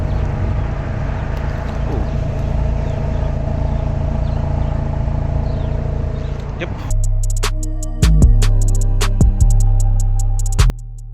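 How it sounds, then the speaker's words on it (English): A 2024 GAC GS3 Emzoom with a 1.5T engine, heard first as a steady low drone with broadband road or wind noise, then as a quieter, closer idle hum cut by several sharp clicks and thumps. "So this is how the car sounds."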